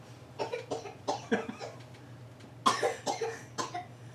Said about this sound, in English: You've given yourself a coughing fit from all your weird breathing.